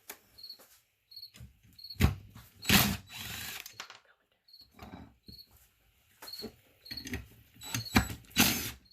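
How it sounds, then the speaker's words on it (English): A ratchet removes bolts from the drive plate of a Honda HT4213 riding mower, giving close bursts of rapid clicking with a recurring high-pitched mechanical chirp and occasional louder handling knocks between them. "Gonna take these 3 bolts off."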